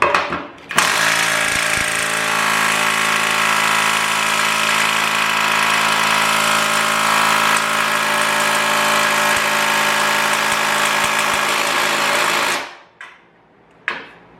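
A WAKYME 21V 1/2-inch impact wrench whirs steadily tightening bolts for about twelve seconds with a constant mechanical drone, then stops abruptly, followed by a brief short burst.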